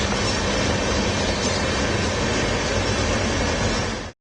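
Trains rolling slowly through fog in Gwalior give a loud, continuous rumble with a rhythmic wheel clatter close by, steady for four seconds before cutting off abruptly.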